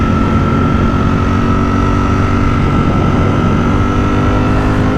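A Ducati Streetfighter motorcycle accelerates hard, its engine roaring loud and steady throughout with a continuous high-revving drone and no talk over it.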